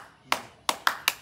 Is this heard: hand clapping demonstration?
yes